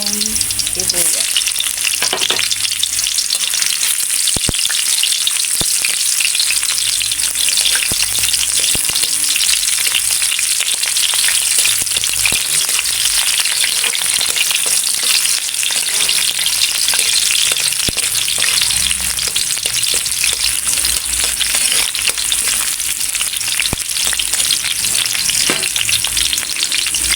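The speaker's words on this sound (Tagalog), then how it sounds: "Haluin na natin until na mag-golden brown itong bawang. So, ihahalo ko na yung sibuyas." Garlic and onion frying in hot oil in a pan, a loud, continuous close sizzle with occasional stirring scrapes and clinks running unbroken throughout.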